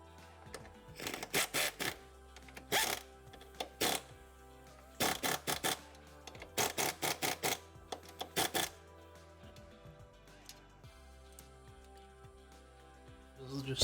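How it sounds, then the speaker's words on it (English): Bolts being tightened on the rear shock bracket of a 2013 Ford Fusion, heard as repeated bursts of quick ratcheting clicks in several clusters, close and fairly loud, with quiet pauses between runs. "This is just the boring part, tightening up the bolts."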